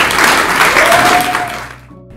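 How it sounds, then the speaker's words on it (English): A crowd at a university promotion and tenure celebration claps in a dense, steady burst of applause that tapers off and fades within a couple of seconds. "give a round of applause to"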